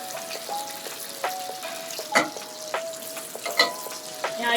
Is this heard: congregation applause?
no